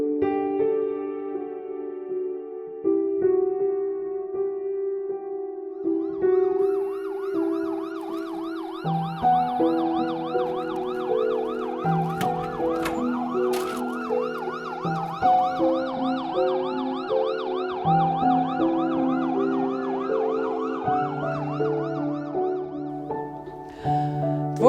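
An ambulance siren wails continuously on the way to a road accident near Katlanovo. The rising and falling tones stay loud and clear throughout, with faint traffic beneath and no voices.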